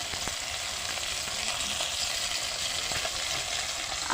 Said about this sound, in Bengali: আরেক ভাগ দেখো এই যে বসিয়েছি এই ভাগটা ভাজা হয়ে গেলে তারপর তরকারিটা বসাবো